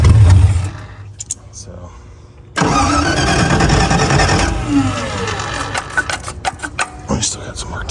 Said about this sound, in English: Nope. Still backfiring.